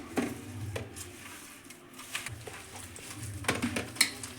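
Boiled potatoes mashed by hand in a pot for fasting-style aloo tikki, giving soft squelching presses with scattered clinks of utensils against metal at an uneven pace, close and moderately loud.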